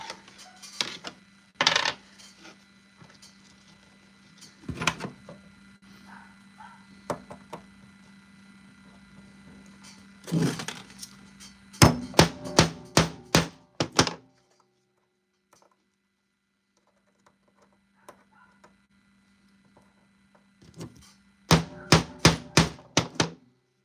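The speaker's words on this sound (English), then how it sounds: "then you gotta hammer this thing down" Sharp metallic hammer strikes setting snap fasteners on costume armor, some single and some in rapid bursts of several quick taps, separated by pauses and a low hum.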